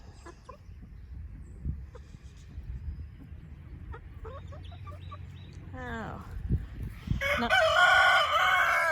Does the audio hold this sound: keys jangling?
no